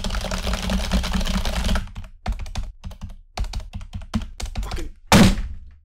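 Typing on a computer keyboard while writing code: a dense rush of fast keystrokes, then separate clacks and short bursts with pauses between, ending in one heavy thunk of a key, all close and dry.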